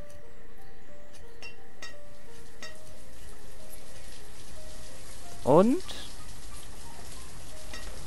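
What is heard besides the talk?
rain in the video game Banished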